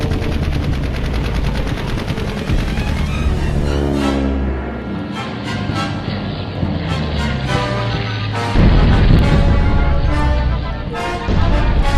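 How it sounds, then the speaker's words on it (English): Wartime aircraft strafing and bombing atolls in the Marshall Islands: loud, sustained bursts of rapid machine-gun fire mixed with aircraft engine drone and heavier blasts, continuous and close throughout, with no talk. "pounded the atolls in the eastern and central Marshall, softening up enemy strong points by strafing and bombing."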